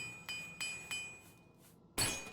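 Repair hammer striking armor in The Elder Scrolls IV: Oblivion, three evenly spaced metallic clinks followed by a louder, brighter ringing strike near the end, close and crisp with no talking.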